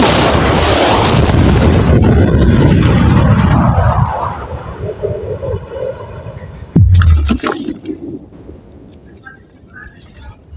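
A loud explosion blowing up a safe bursts out near the end after a long roaring rumble, a sharp deep blast followed by a fading boom and crackle, with voices faintly around it.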